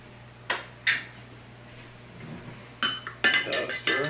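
A spoon stirring baking soda into water kefir, with a few sharp metallic clinks against the container, a quiet pause, then a quicker cluster of clinks and scrapes.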